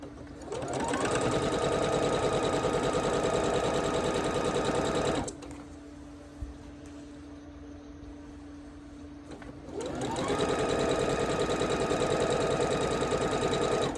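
A sewing machine stitching quilt fabric runs in two loud, steady bursts of rapid mechanical whirring, separated by a quieter pause of low hum before it starts up again.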